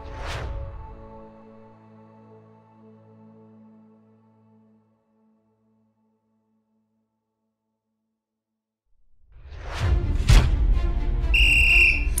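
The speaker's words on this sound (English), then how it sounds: "When I hear the sound of that whistle" A loud whistle blast rings out and slowly fades to silence, then after a pause another sharp blast sounds with a shrill high tone.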